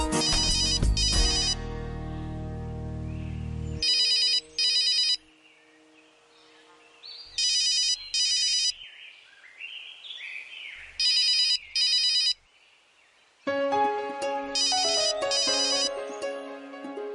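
A mobile phone ringtone plays loud and close as a repeating electronic melody in several bursts, with short pauses between the phrases and no talking.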